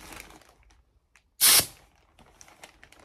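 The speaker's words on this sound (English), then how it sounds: "It says it features a high pressure blast nozzle to cover large areas" A scented cleaning product sprayed from a high-pressure blast nozzle, one sharp hissing burst about a quarter second long, loud and close, set between quiet handling noises.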